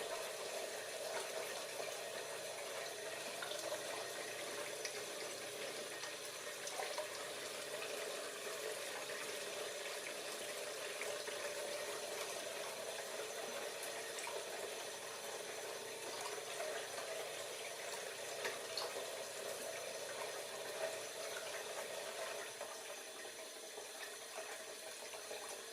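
Water pumped in a laboratory experiment runs and splashes in a steady, continuous rush, fairly faint and even throughout with no talking.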